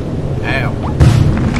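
Steady rain hiss from the video game Battleblock Theater, with a low thunder-like boom rolling in partway through and continuing to the end, and faint chirpy game sounds earlier.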